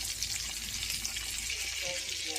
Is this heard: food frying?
yes